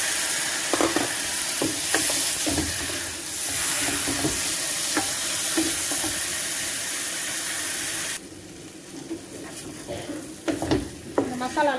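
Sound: sautéing spices and chicken in pan

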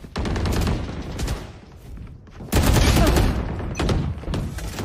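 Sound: gunfire in video game Valorant deathmatch

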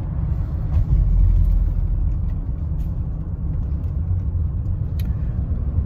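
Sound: car engine puttering while running on an empty gas tank

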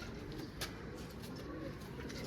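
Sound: pigeons cooing

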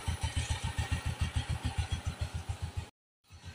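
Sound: motorcycle engine idling

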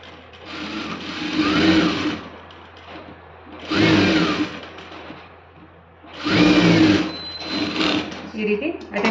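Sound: sewing machine stitching a school uniform skirt pocket

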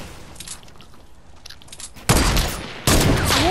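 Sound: drum gun firing in the video game Fortnite

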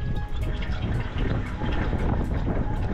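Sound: strong wind blowing on a mountain road

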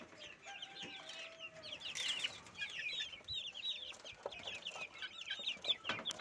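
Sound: naked neck chicken chicks clucking

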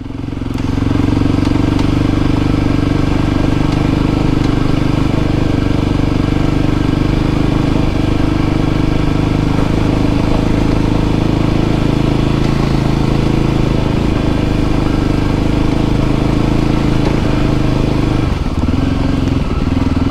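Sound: Voge 300 Rally motorcycle riding on rough off-road track

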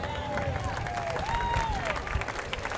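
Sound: crowd applause at Armed Forces Day parade

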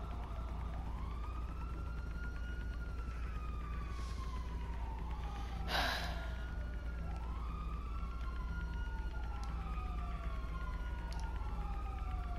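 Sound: police car sirens passing outside

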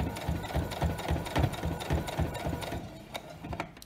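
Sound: sewing machine stitching fabric around a curve

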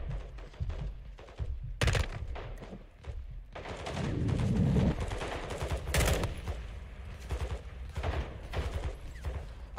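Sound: gunfire from a gun in the video game Modern Warfare II

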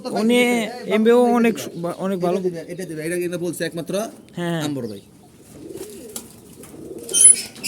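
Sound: pigeons cooing

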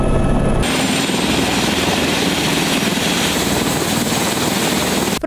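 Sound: H-225 Super Puma helicopter

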